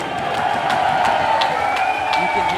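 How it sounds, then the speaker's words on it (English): A crowd at a parkour competition cheers and whoops loudly and steadily, with sharp shouts rising out of the roar and an announcer speaking over it. "You can hear the crowd"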